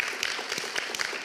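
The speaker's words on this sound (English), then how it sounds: "Let's give a round of applause for Fanny's." Audience applause for a speaker in the PyCon Greece 2025 auditorium: a brief burst of dense, crackling clapping from many hands, with no talking over it.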